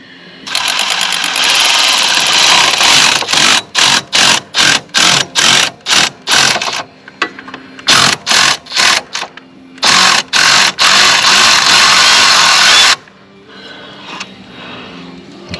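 A power tool with a thread chaser, cleaning bolt holes on a 52-inch Wright Stander mower, runs close and loud in a long series of short rapid bursts, stopping and starting repeatedly, then falls quiet.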